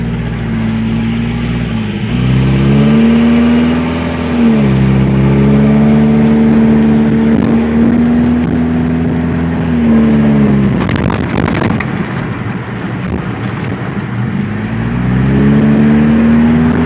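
A Toyota Prius with 238,000 miles accelerates onto a highway, heard from inside as a loud, steady hybrid whir whose pitch climbs and drops in repeated sweeps, with road rumble beneath.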